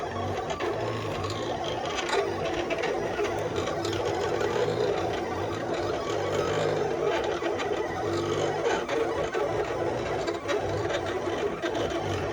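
A Silhouette cutting machine cuts stickers with a steady, continuous mechanical whirring and buzzing that holds at a constant level from start to finish, with no talking over it.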